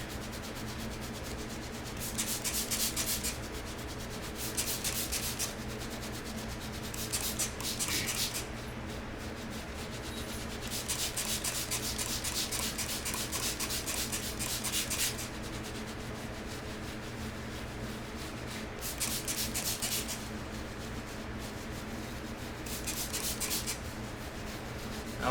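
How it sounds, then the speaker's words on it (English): Gloved hand scrubbing a wet carpet stain, a steady rubbing and scraping in repeated bursts that stay close and fairly quiet throughout, with no talking. "this is a pretty bad stain, so this is going to require a little bit of scrubbing"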